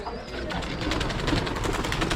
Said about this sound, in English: Yeah, about 300 pigeons,